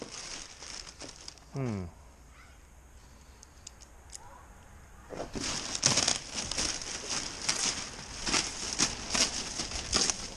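Plastic packaging for a Perception Outlaw kayak being cut open with a knife: crinkling and tearing plastic, soft at first and growing louder and busier in the second half, with brief speech in between.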